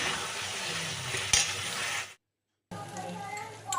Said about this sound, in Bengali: সুন্দর করে সুন্দর করে কষিয়ে নিচ্ছি বেশ মশলাটার সাথে